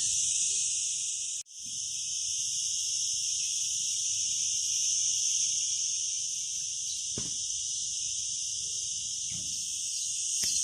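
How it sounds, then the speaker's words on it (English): Loud, steady high-pitched buzzing of cicadas on a hot July day in Spain, continuous and close, with a brief dropout near the start and a few faint clicks underneath. "That's the sound of summer here in Spain. The cicadas."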